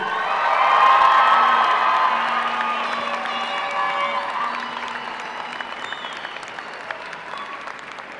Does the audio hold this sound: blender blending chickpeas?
no